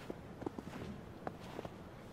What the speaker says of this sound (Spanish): lo único que podía escuchar era el sonido de sus propias pisadas